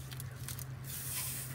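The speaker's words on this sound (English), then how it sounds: "I'm gonna just make sure this meat's getting cooked here, this hamburger" Hamburger meat sizzles in a pan with a steady, close hiss and soft sputtering, with a low hum underneath.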